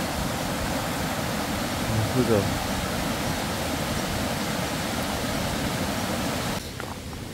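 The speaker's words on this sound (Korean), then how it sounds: "지금 여기는 계곡이 완전 폭포가 됐습니다" A mountain stream swollen by heavy rain beside a campsite roars like a waterfall, a constant dense rush of water that is close and steady throughout, with a brief murmur of voices partway through.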